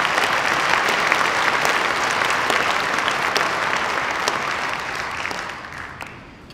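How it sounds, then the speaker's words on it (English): Dense, sustained applause fills an awards ceremony hall, a broad wash of many hands clapping at once that holds steady before thinning and fading out near the end. "Give them a round of applause."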